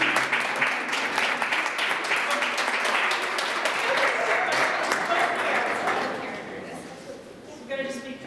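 Audience at a contemporary art panel discussion applauding the artists, a dense, moderately loud round of clapping that holds steady then fades out, with a brief voice at the end.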